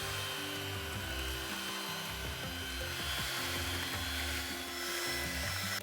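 An electric mixer beats cream cheese with sugar, vanilla essence and strawberry puree, a steady close motor whir with a constant hum throughout, with no talking.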